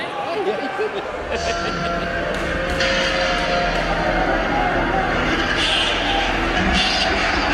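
A packed wrestling crowd at a DEFY event roars for KENTA's entrance, a dense, sustained wall of cheering and shouting that holds loud throughout with brief sharper bursts on top.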